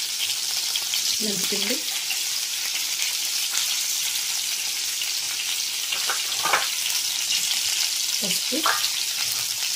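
Eggplants cook in a little oil in a pan, giving a steady soft sizzle throughout, with a few brief spoken words and light stirring clinks heard over it.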